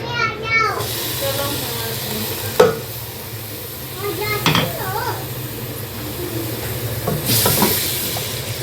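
Chopped onions drop into hot oil for an aloo chicken curry and sizzle steadily in the pan. A loud knock, then intermittent spoon clatter and stirring sound over the sizzle, with brief background voices.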